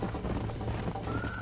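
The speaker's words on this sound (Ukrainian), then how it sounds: "Потрібно коня постійно штурхати, натискаючи кнопку Shift" A horse gallops in the Red Dead Redemption video game, spurred on by its rider, with steady hoofbeats running continuously under a game soundtrack.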